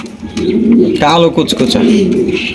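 Mundi pigeons at a market coo in a low, throaty burst near the mic, the call rising and falling over steady background crowd noise and chatter.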